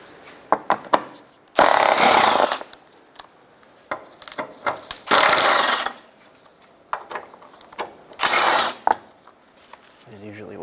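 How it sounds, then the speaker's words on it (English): Tool work on a 2012-2016 Subaru Impreza removes 12 millimeter undershield bolts: several long, loud bursts of a power tool separated by clicks, clanks and handling noises, all close by. "To remove the undershield, start by taking out these four 12 millimeter bolts."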